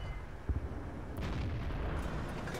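A T-34-85M tank cannon fires in a video game, a booming shot followed by a rumbling roll of heavy engine and battle noise.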